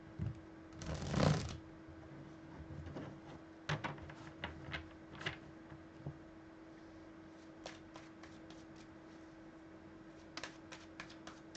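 A deck of tarot cards is riffled in one loud burst, followed by softer scattered taps and flicks as the cards are handled, close up and quiet.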